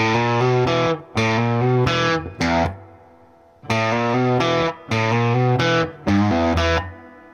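Distorted electric guitar plays a quick repeating lick: one strong picked downstroke followed by a rapid double hammer-on, in two bursts separated by a short pause.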